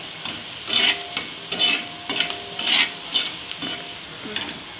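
A spoon stirs a spiced eggplant bharit mixture with salt and red chili powder in a pan, a close, rhythmic scraping and squelching roughly once a second over a soft sizzle, with no voices.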